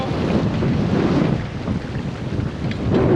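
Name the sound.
wind blowing at sea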